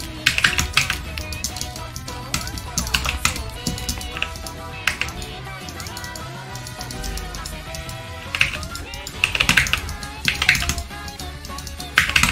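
Computer keyboard typing during a League of Legends match: bursts of quick clicky keystrokes over game sounds and music, with some talk.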